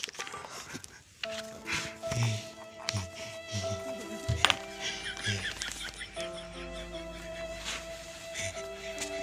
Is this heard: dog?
yes